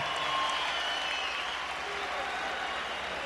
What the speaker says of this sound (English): how about a big round of applause for the effort out of these two warriors in the ring